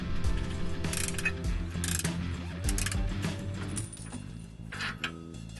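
Ratchet wrench removing nuts from the catalytic converter support bracket under a Nissan 350Z/370Z or Infiniti G35/G37, giving bursts of rapid metallic clicking close by, with pauses and clanks between strokes.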